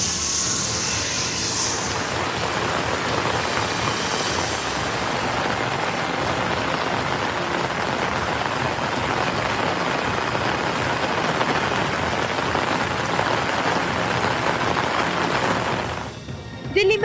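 Heavy monsoon rain pours down during flooding, a dense, loud, continuous roar of drops hitting surfaces that holds steady for the whole stretch before a brief rustle near the end.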